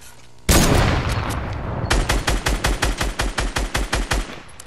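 Video game gunfire: one loud, sharp blast, then a rapid, evenly spaced automatic volley of about a dozen close, punchy shots that stops abruptly.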